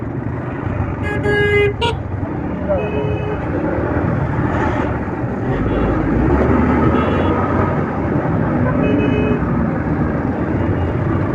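A motorbike riding on a busy Dhaka road near the International Trade Fair: a loud continuous engine and wind roar amid traffic, with short car horn toots early and faint honks later, no talk.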